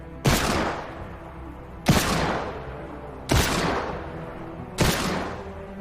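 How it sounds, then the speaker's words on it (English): Four heavy hand cannon shots from the Fortnite video game, fired at a medallion car, each a loud sharp boom that rings out and decays over roughly a second and a half, spaced evenly apart. "I start shooting the medallion car with the hand cannon"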